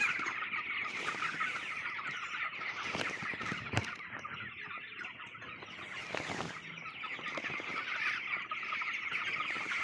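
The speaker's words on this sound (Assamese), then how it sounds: "আপোনালোকে দেখা পাইছেই মুৰ্গীখিনি কেনেকুৱা অৱস্থাত আছে।" Chickens in a poultry farm shed at twenty-five days old, with a dense, continuous chorus of clucking and chirping from many birds that stays steady throughout, with no talking.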